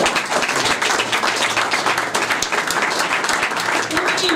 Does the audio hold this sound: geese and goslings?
no